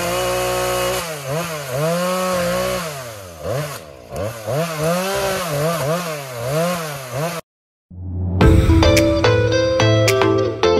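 A chainsaw cuts through trees downed by a wind storm near a shop, the engine note rising and falling in repeated revving strokes up close, then stopping briefly before a sharper, higher burst of cutting.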